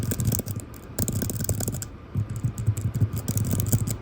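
Typing on a MacBook's short-travel, tactile keyboard produces rapid, close, crisp clicking keystrokes in uneven bursts, with a brief pause midway.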